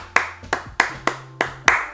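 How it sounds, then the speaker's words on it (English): A single person claps a one-bar rhythm at a music school audition, six sharp, close hand claps in an uneven pattern with brief gaps between them. "I'll clap for a bar, and I want you to clap it back."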